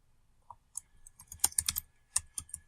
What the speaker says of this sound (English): who keeps, like, clicking and typing?